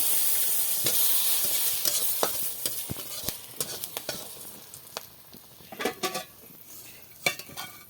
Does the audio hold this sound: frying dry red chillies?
yes